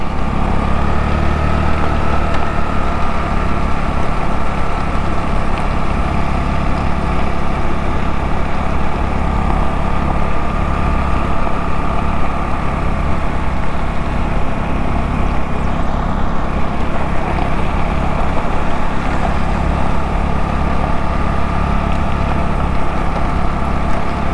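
A Honda Monkey motorcycle engine running nearby, a continuous loud, buzzy drone holding steady without letup.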